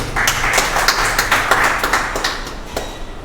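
Brief scattered clapping from an audience at a district bar association symposium in Meerut, welcoming the presiding chair; individual claps stand out unevenly.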